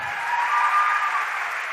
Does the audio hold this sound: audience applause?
yes